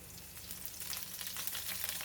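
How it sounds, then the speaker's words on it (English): Crushed garlic fries in a pan for a pork stew, a soft close sizzle with light crackling as it is stirred. "Add in all crushed garlic and stir for about 25 seconds or until garlic releases its aroma"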